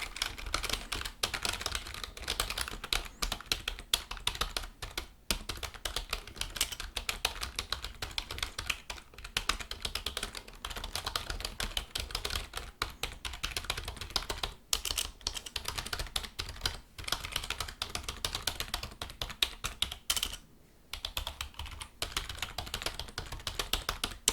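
Steady close-up typing on a computer keyboard at a Micromania video game shop counter, dense continuous key clicks with a few brief pauses, no talking.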